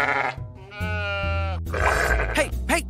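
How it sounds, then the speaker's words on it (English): A sheep in an animated cartoon gives loud, close, wavering bleats, a long quavering cry followed by shorter grunting calls, with no speech over it. "Hey, stop threatening my sheep."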